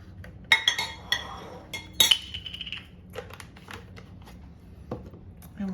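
A utensil clinks against a bowl while heavy whipping cream is mixed into carrot cake batter, with a few sharp taps early on, then soft intermittent scraping and stirring, close and fairly quiet.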